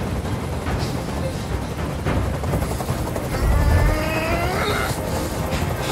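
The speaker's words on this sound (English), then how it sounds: "Tell that helicopter to get out of here." Helicopter hovering overhead in the video game Detroit: Become Human, a steady loud rotor roar mixed with dense city noise, swelling slightly midway through.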